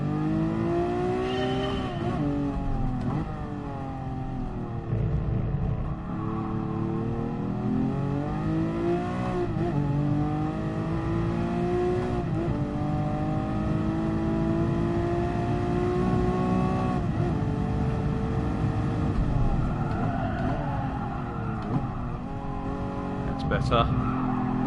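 Race car engine in Gran Turismo Sport revving continuously on racing tyres, its pitch rising and falling through gear changes with occasional tyre squeal, loud and steady throughout while someone talks over it.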